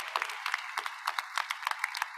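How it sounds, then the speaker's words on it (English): An audience at a Maple Heights City Schools Class of 2024 graduation ceremony applauds, a dense patter of many hands clapping from a moderate distance, fairly soft and steady for a couple of seconds. "That's worth a round of applause here in Maple Heights."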